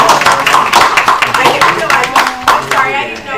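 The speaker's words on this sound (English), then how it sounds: "Should we clap?" People at a borough council meeting clap together in a short, close round of hand claps, with individual sharp claps audible over some background voices.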